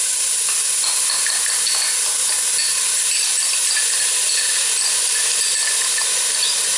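Garlic sizzles in a hot pan with a steady, bright hiss that holds for several seconds, close and fairly loud, with faint stirring scrapes mixed in.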